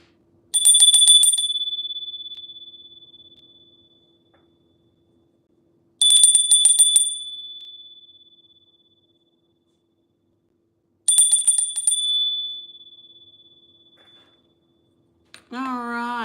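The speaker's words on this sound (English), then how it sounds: "I'm going to ring the bell." A bell gives three bright rings, each followed by a long fading ring-out and separated by several seconds of silence, loud and close, and a voice begins to speak at the very end.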